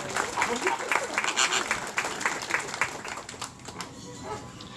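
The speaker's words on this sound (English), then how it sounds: "round of applause to come to their next stop" Scattered audience clapping at a zoo flamingo show in Nassau, Bahamas, lively then fading, mixed with chatter, a dog barking and yipping nearby, and flamingo calls.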